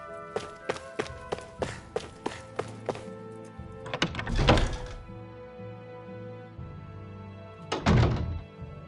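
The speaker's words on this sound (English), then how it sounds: "I always love the sound of hammers banging away." Hammers bang away in a workshop setting in the video game Tales of Arise: a run of regular metallic knocks at a steady pace, then a few heavier, louder thuds with ringing tails, fairly near and alone.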